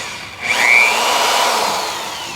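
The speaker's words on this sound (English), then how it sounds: "Now I'm going to drill a little bit of a hole here." A power drill bites into rubber on a 2001 Ford F350 during a pop-up ball hitch installation, a close whining cut that rises sharply and holds steady for about two seconds.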